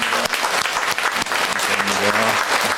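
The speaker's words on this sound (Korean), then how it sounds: "박수로 우리 환영하겠습니다" A church congregation at a Sunday service claps steadily and loudly, a dense wash of applause with faint voices murmuring underneath.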